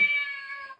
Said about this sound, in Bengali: বিড়ালের ডাক